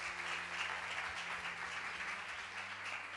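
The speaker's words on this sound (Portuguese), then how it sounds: "Uma salva de palmas para ela." A church audience applauds steadily for several seconds, a dense, even wash of clapping heard at moderate distance without voices on top.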